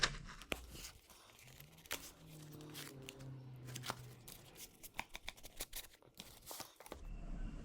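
A parcel shipped from the US, holding new gear for a mill's servo power feed, being opened by hand in a workshop: sharp tearing, crinkling and rustling of packaging in quick bursts, close and fairly quiet, with a brief low hum.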